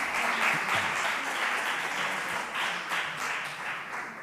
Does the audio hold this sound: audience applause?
yes